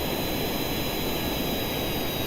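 Steady, loud roar of a jet aircraft engine in the game Kerbal Space Program, running at about three-quarter throttle as a continuous broadband whoosh with a faint high whine and no talking.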